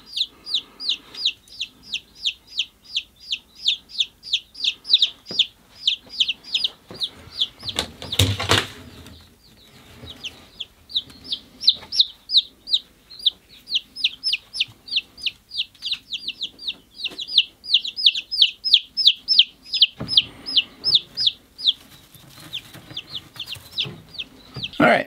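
A box of twelve day-old chicks at a homestead, giving rapid, continuous high peeping that runs throughout. A brief burst of wing flapping and rustling comes partway through.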